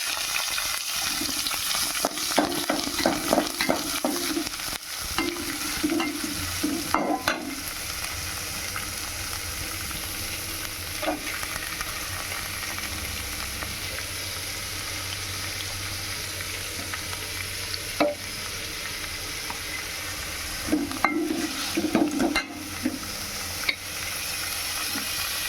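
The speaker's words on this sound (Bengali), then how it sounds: "পেঁয়াজটা আমি বাদামি কালার করে দেবো। ভেজে ভেজে বাদামি কালার হয়ে যাওয়ার পর আমি একে একে মশলা দেবো।" Onions fry in a pan for a chicken and potato curry, giving a steady loud sizzle with repeated scraping stirs in bursts throughout, close up and with no voices.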